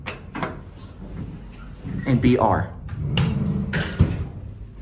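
The front and rear doors of an Otis Series 2 traction service elevator in a college building slide open together with rumbling, rattling mechanical movement and a sharp knock near the end, partly under a voice.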